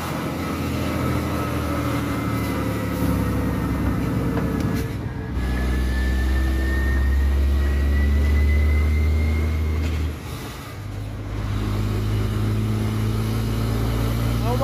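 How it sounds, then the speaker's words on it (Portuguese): A Scania truck with a straight-through exhaust valve fitted runs its engine brake, a loud, deep droning roar that surges and changes pitch, with short breaks in between. "Dá um ronco bonito. Olha o freio motor."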